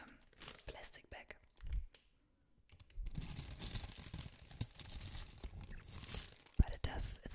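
Paint brushes shuffled and rustled inside a plastic bag, giving close crinkling and crunching bursts with a brief quiet gap, under soft nearby whispering.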